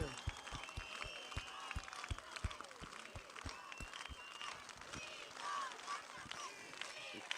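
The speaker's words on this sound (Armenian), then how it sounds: "Բուռն ծափերով ողջունենք" Crowd applause and clapping at an open-air political rally in Armavir, Armenia: a steady wash of many hands clapping in sharp, fairly regular bursts, with crowd murmur underneath, sustained throughout at moderate loudness.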